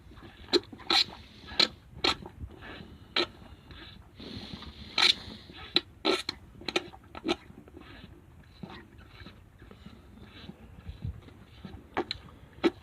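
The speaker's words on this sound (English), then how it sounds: "he's sucking the milk out of the pail" A calf sucks milk out of a pail, making wet slurps and sharp smacking pulls at an uneven pace. The sound is close and fairly quiet, with a low, steady background.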